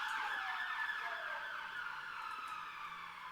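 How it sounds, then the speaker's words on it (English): A fire station siren in Gettysburg wails, sweeping up and down in pitch, moderately distant, with no talking. "why the sirens are going off in Gettysburg, because we're right next to the firehouse"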